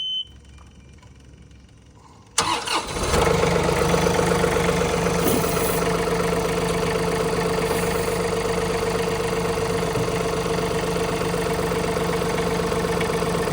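Engine of a newly delivered machine cranks and then idles steadily, one abrupt start followed by a loud, even running drone with a faint high whine on top; no talking.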